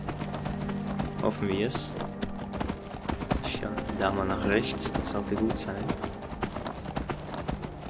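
A horse's hooves clip-clop at a steady trot in the video game Skyrim, close and rhythmic, under someone talking throughout.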